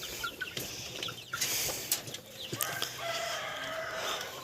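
Chickens cluck and a rooster crows in a farmyard, with sharp short calls and some wing flapping, fairly faint and without talk.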